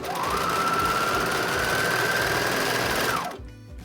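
A sewing machine stitches fabric for a pleated face mask in one steady, close, continuous run of about three seconds, then stops abruptly.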